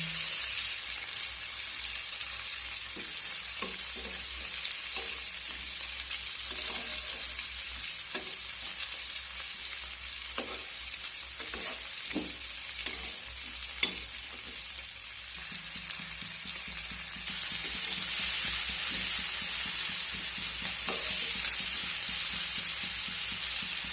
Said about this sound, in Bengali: চিংড়িগুলো ভাজার জন্য গরম তেলের মধ্যে দিয়ে দিলাম